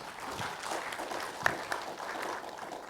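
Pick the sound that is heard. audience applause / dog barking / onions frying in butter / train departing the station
audience applause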